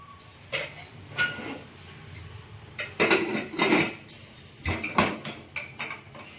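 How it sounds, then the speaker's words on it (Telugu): Metal pressure cooker lid being fitted onto a cooker of soaking dal, heard as a handful of sharp, close metallic clanks and clinks spaced irregularly over several seconds, with quiet gaps between. "కుక్కర్కి మూత పెట్టేస్తామండి."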